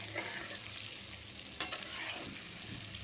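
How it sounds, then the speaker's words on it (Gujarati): Stuffed sponge gourd curry being stirred slowly in a pan over low heat, giving a soft continuous sizzle with a few faint scraping strokes of the spoon, fairly quiet and steady. "આને એકદમ ધીમે ધીમે હલાવશું એટલે મસાલો આમાંથી નીકળી ના જાય"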